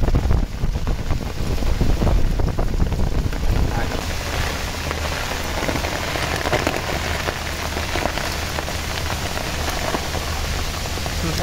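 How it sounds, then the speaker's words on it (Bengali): Stormy rain pours steadily on surfaces near a pond during a storm, with gusty wind noise buffeting the microphone throughout; a voice speaks briefly near the start. "যেই তুফান শুরু হয়েছে"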